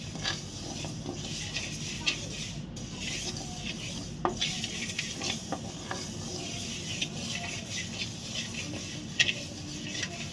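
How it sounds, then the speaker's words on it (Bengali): Moong dal is lightly dry-roasted in a pan and stirred without pause, a steady close-up rasping, rustling scrape with a few brief knocks and no voices. "দেখুন ডাল ভাজা হয়ে গেছে, একদম অল্প করে ভাজছি"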